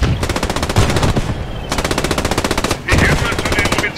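Rapid bursts of MG42 machine gun fire in the World War II shooter Post Scriptum, loud and close, in long sustained strings broken by short pauses.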